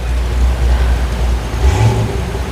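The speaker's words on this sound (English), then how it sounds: "I don't know if y'all hear that in the background. That was a Corvette." A Corvette engine revs somewhere in the background near a mechanic's repair job, a low, loud rumble that swells into a brief rising rev toward the end.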